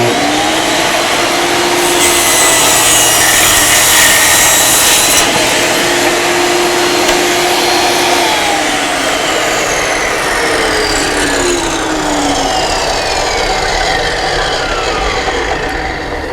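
A table saw rips a half-inch strip off a board against the rip fence, its steady loud whine running throughout with a harsher cutting burst partway through, no voices.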